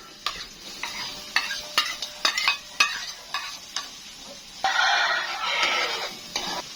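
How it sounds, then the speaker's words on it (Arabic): Onions stirred in hot ghee for a potato dish, a steady close sizzle broken by repeated sharp scrapes of a spoon against the pan, with the frying surging louder near the end. "هنزل بالسمنة بقى، هنزل بالبصل بقى"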